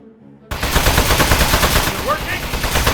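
Gunfire in the video game Aperture Desk Job bursts in suddenly after a brief quiet moment, a rapid steady stream of shots that stays loud and close until the end.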